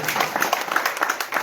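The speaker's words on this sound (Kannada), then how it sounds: "ಬಹಳ ಸುಂದರವಾಗಿ ಹಾಡಿರ್ತಕ್ಕಂಥ ಶಾಸ್ತ್ರಿಗಳಿಗೆ ಜೋರಾದ ಒಂದು ಚಪ್ಪಾಳೆ" Short burst of crowd applause at a Kannada devotional gathering for the singer Shastri, quick dense clapping with voices mixed in.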